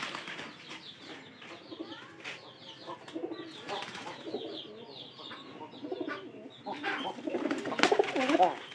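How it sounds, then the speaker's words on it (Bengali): Domestic pigeons coo in repeated low rolling calls inside a coop, mixed with some wing flapping and shuffling, growing busier toward the end. "এটা কিন্তু কবুতর হিসেবে অনেক ভালো"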